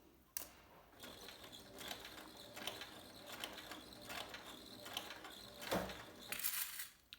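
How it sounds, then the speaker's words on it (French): A sewing machine stitches fabric, sewing in reverse, with a steady mechanical whirring and rhythmic needle clatter running throughout, close and fairly loud, briefly swelling near the end. "je commence à coudre en arrière en premier"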